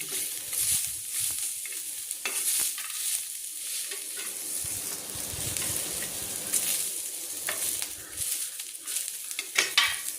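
Onions, peanuts, garlic and coconut roast in a pan over a constant dry frying hiss, with occasional scraping and rustling as they are moved about, close and moderately quiet, with no talking.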